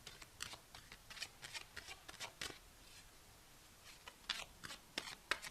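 Tarot cards shuffled by hand up close, a run of crisp, irregular riffling flicks and soft slaps with brief pauses between bursts, no voice.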